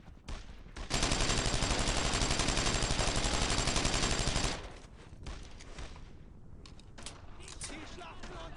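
Sustained submachine gun fire in the World War II shooter Brothers in Arms, one long continuous rattling burst of nearly four seconds, loud and close, followed by quieter scattered battle noise.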